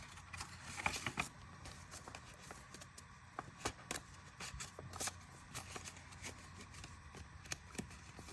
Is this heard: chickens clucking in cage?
no